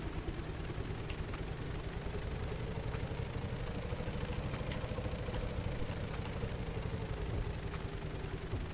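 A boat's engine running at reduced throttle in Stormworks hums as a steady, low, even drone, fairly quiet and unchanging throughout, with no one talking.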